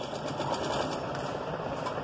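A sewing machine runs steadily while stitching piping onto a boat neck, giving a continuous mechanical whir with a fast, even stitching rhythm throughout, close up and with no talk.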